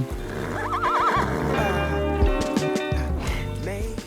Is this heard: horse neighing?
yes